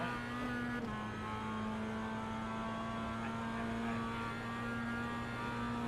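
Mazda MX-5 Cup race car engine in the iRacing simulator, droning steadily at a held pitch throughout, loud and continuous with no speech.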